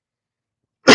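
A single sharp, close cough bursts out loudly after almost a second of complete silence and is cut off right at the end.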